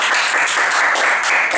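Loud, steady applause from a crowd at a party in Apulco, Zacatecas, honouring the cameraman: dense continuous clapping with slight rhythmic surges.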